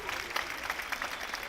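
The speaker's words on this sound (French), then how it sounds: "Je pense qu'on peut l'applaudir avant son départ." Audience applause before a show-jumping rider's round at an elite CSO final, a steady broadband patter of many hands clapping, moderately distant and sustained throughout.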